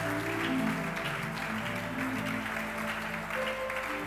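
A church congregation at a Sunday service claps and cheers in praise of the Lord, a steady wash of applause mixed with sustained tones that stays loud and continuous for about four seconds, with no clear speech.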